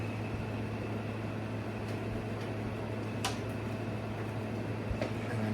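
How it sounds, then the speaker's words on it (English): A 1996 GE window air conditioner on high fan gives off a constant, full hum and rushing airflow, close and unbroken. A couple of faint ticks sit over the steady drone. "There's high fan."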